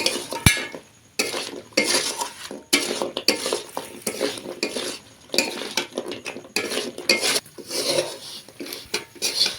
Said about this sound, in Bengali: ভেজে রাখা মিষ্টিগুলো দিয়ে দেব আর দেওয়ার সঙ্গে সঙ্গেই এটা নাড়তে চাড়তে শুরু করব।